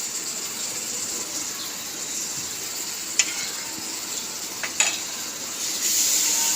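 Garlic paste and mustard paste fry in a pan for a bottle gourd greens and shrimp bhuna, giving a steady, close hiss with a few sharp stirring clicks and a louder sizzle toward the end.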